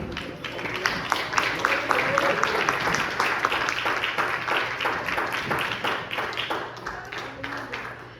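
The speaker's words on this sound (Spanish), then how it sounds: "le da un aplauso al Señor" Church congregation clapping steadily for several seconds, a dense even patter of many hands, fairly close and moderately loud, with some voices mixed in underneath.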